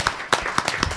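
Audience members at a talk on helping a family member with drug addiction clap in sparse, uneven bursts, a few sharp claps spaced across a short moment rather than sustained applause.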